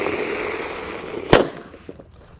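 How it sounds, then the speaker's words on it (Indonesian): A radiator firecracker set off in a hole in the ground bursts with a single sharp, loud bang, trailing into a brief rumble and faint crackles over steady background hiss. "yang akan kita nyalakan ada mercon radiator di lubang tanah ini guys"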